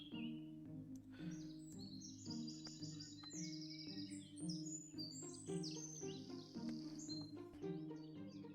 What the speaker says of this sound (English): It's a simple bird.